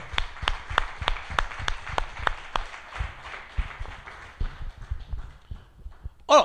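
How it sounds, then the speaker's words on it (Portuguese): A church congregation claps during a Portuguese-language sermon, starting with a slow, steady rhythmic beat of single claps that loosens into scattered applause and fades toward the end. "Quem pode aplaudir o Senhor?"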